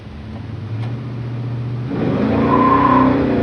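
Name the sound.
1970 Chevrolet Chevelle SS big block accelerating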